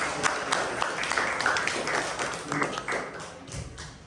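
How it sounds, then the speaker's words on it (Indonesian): Students at a Catholic junior high school clap for their teachers, an irregular, thin patter of hands with some taps and thumps, moderately close and uneven over four seconds. "kita tepuk tangan untuk para guru"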